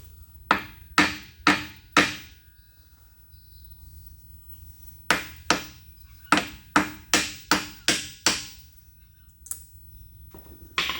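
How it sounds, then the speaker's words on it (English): Copper hammer striking the stuck, gasket-held end plate of a large Kasto power hacksaw, loud sharp blows in two bursts of repeated hits with a short pause between them, close by. "Let's give it a bit of a twack."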